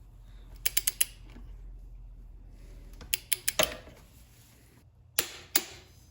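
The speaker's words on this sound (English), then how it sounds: "I have my new torque wrench set to 44 foot-pounds of torque" Torque wrench tightening the cylinder bolts on a KX450 dirt bike engine: three bursts of quick ratcheting clicks with sharper snaps, separated by pauses, close up against a low steady hum.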